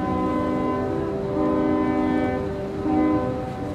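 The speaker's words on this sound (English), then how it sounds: "Robert blasts out the fort's safe passage code. 2 long whistles, 1 short." A steamship whistle sounds long sustained blasts signalling a fort's safe passage code, a rich harmonic tone that holds steady and swells twice, with no talk over it.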